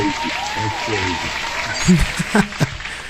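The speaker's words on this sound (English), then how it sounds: "Hand clap to you, brother." Hands clapping in steady applause for a crypto friend's win, a continuous dense patter with a few sharper claps near the end.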